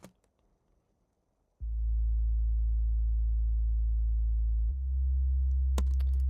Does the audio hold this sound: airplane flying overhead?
no